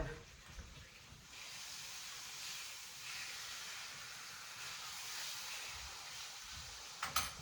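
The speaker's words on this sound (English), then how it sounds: "Let me turn my steak real quick while I'm over here at the stove" Steak sizzles in a pan on the stove as it is turned, a steady, faint hiss of frying fat running evenly throughout, with a brief clatter near the end.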